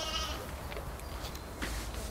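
Sheep and young lambs bleat in a pen at a wolf center, a few short nearby calls over a noisy outdoor background.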